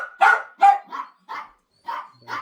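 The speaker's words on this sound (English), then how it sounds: "Get them to stop barking." Dogs bark in a quick series of six sharp, loud barks close by, with brief gaps between them.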